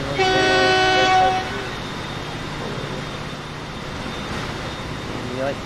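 A long freight train in a video game, with a loud horn blast at the start, then a steady rolling rumble of wagons continuing underneath.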